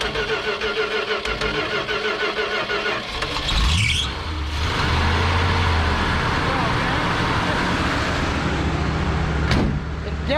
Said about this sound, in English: It definitely needs a carburetor. You got to hold your foot to the floor to get it to fire.